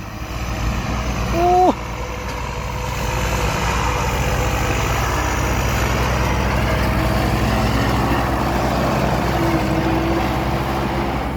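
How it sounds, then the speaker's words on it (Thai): A turbocharged Kubota L5018 tractor with a 1.9 engine, running steadily at about 1700 rpm. A low, continuous diesel rumble holds throughout, with a brief whine-like blip near the start and no speech. "รอบเครื่องอยู่ประมาณพันเจ็ดครับ"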